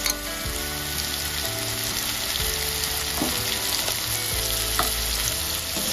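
Ginger garlic paste frying in a pan, a loud, continuous close sizzle with occasional stirring knocks and scrapes and no voices.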